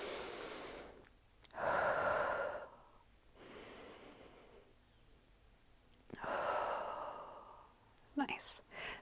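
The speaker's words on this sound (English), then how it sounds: "Let's take 3 full breaths. Big breath in. Feel that expansion." Deep, slow breathing during a mid-back stretching routine: two long, loud inhale-exhale cycles with audible sighing exhales, close to the microphone, separated by quieter pauses, with a brief voice near the end.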